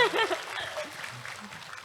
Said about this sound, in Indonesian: Ayo boleh berikan tepuk tangan dulu pada semuanya